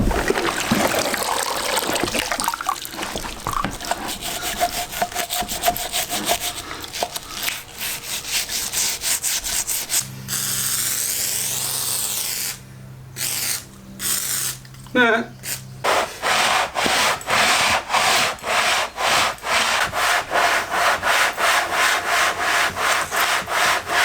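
Wet sanding an engine cylinder head with 600 grit paper, a close run of rubbing strokes with trickling water, slowing into short rhythmic passes, with a voice now and then over it.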